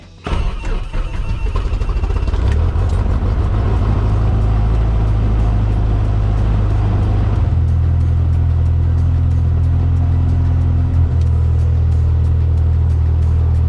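Mooney light aircraft piston engine cranking and catching, then settling into a loud, steady close-up rumble with a deep drone, a slight change in pitch partway through as the throttle is adjusted.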